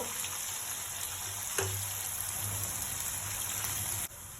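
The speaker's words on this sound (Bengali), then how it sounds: "পেঁয়াজ একটু লাল করে ভেজে নেবো" Onions frying in a little oil in a home kitchen pan, a steady close hiss and sizzle running throughout with no talking.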